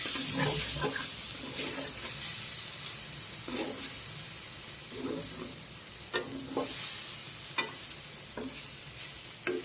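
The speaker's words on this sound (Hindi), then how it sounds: "तो देखिए मसाला हमारा बिल्कुल अच्छे से भून गया है" Masala roasting in a pan over a low flame, with a steady soft sizzle and hiss under repeated scraping stirs of a spoon at an uneven rhythm, close by.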